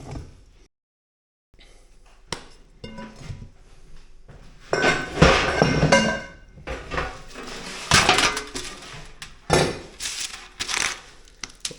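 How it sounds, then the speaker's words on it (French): Chocolate pieces are tossed into cookie dough in a bowl, giving a series of close, sharp clinks and clatters against the dish, with mixing scrapes and bumps in between. "Tu balances le chocolat."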